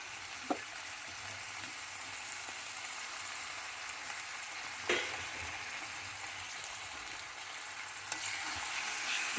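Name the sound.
frying methi greens with tomato in a pan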